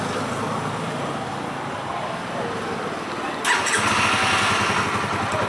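A Honda CBR motorcycle engine idles steadily, then catches with a brief surge about halfway through after a remote start, and keeps running with a slightly louder rumble.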